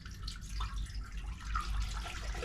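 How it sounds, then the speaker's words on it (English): Distilled water poured into an ultrasonic record cleaner: a steady close gurgling stream splashing into the tank with a low rumble underneath, continuous throughout. "Just pour the water in."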